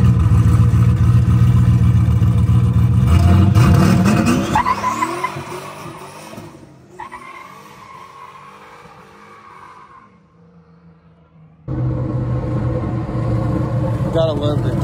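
A car fitted with a giant turbo revs hard and accelerates, with loud engine roar and screeching tire squeal. The engine note drops away to a quieter idle, then surges back loud near the end.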